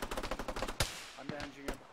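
Machine gun fire in the military game Arma, a steady rapid burst of close shots, then a single heavy report and a few scattered, more distant shots.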